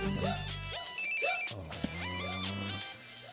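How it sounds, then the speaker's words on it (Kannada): Telephone ringtone, a loud melodic electronic ring with repeating tonal phrases, heard alone without talk. "ಮೆಣಸಿನ್ಕಾಯಿ ಫೋನ್ ಕಣೋ."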